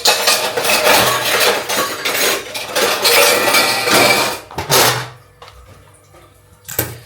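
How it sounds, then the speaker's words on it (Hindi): Dishes, pots and utensils being washed in a home kitchen, with running water and repeated clinks and clatters of metal and ceramic, dense and close, then stopping before a final brief clatter. "तो अभी मैं बर्तन धो रही हूँ।"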